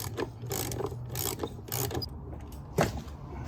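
Ratchet working a 14 mm bolt counterclockwise on a 2003 Nissan Altima 3.5 during alternator removal, giving a series of close, irregular clicking and grinding bursts over a steady low background hum.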